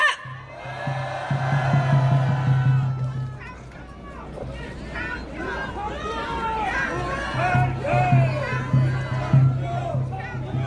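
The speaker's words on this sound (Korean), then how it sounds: "큰 함성 부탁드립니다." A large crowd at a Seoul Station Taegukgi rally roars and cheers loudly, rising in waves over several seconds, with shouting voices mixed into the swell and a steady low hum beneath.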